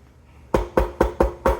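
Five sharp knocks on a door in an even, quick rhythm, close and loud, following a brief quiet moment with no talking.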